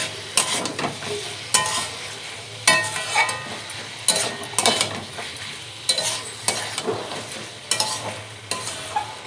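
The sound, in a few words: diced potatoes and chicken being stir-fried in a pan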